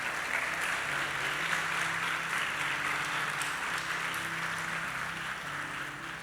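A church congregation applauding, steady sustained clapping from a large room over a low hum, holding even and easing slightly toward the end.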